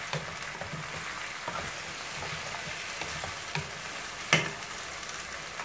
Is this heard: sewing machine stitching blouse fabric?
no